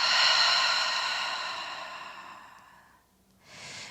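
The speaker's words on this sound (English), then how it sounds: "Full breath out." A full, deep breath out gives a long, airy exhale that fades gradually over about three seconds, followed by a brief soft inhale, close and alone.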